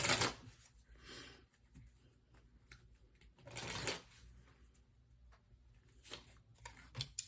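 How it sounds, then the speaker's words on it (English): Oracle cards are shuffled by hand in several quick riffling bursts with softer slides and taps between them, close but quiet, with no talking. "let's pull some more oracle cards for your blessings"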